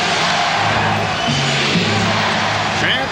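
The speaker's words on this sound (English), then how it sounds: "Chant of defense from the crowd here in Stockton." A packed basketball arena crowd roars in a loud, steady, dense wash of voices, chanting for defense in Salt Lake City during Game 4 of the 1997 NBA Finals, Chicago Bulls at Utah Jazz.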